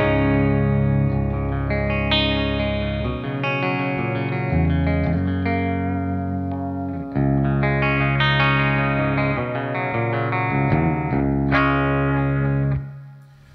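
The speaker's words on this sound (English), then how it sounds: "this is the sound of the Les Paul straight into the VX100." A Les Paul electric guitar played straight into a VX100 clean amp, ringing chords and single notes with a roomy reverb tail, fading out at the end.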